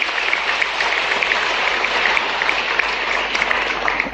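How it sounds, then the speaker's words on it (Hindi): An audience at a government awards ceremony for young achievers claps loudly and continuously, a dense, close roar of hands with no voices on top. "उच्च शिक्षा विभाग के लिए जोरदार ताली बजाओ"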